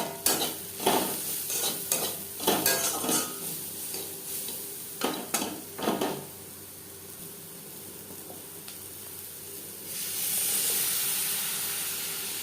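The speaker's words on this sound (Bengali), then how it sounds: "তিন 4 মিনিট পেঁয়াজ ভেজে নেওয়ার পর দিয়ে দেবো হলুদের গুঁড়ো" Onions frying with turmeric and salt in a pan for a puti fish curry, a spoon scraping and stirring in bursts, then a steady sizzle rising near the end.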